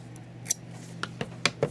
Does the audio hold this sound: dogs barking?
no